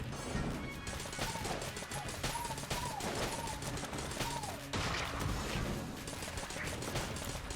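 A nail gun fires in the game Enter the Gungeon, a rapid, continuous rattle of shots layered over dense game effects and music, with pinging tones rising and falling throughout.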